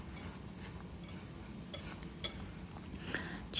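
A wire whisk stirs a sugar mixture in a bowl for gingerbread dough, producing a steady scraping swish with occasional light metallic clinks against the bowl, close and moderately quiet.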